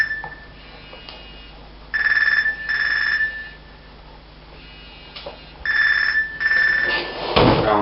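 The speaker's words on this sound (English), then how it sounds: "I'm sorry about my phone." A mobile phone rings in a leather-working space: four bursts of an electronic ringtone in two pairs, with quiet gaps between them, followed by a clatter at the end.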